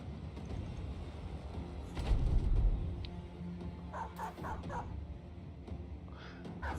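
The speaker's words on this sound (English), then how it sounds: "How cool would it be if, like, dog barking could wake up a brother?" A dog barks and yips inside the medieval fantasy strategy game Battle Brothers. Several short barks sit over a constant busy game ambience, with one louder burst near the start and more clustered barks later.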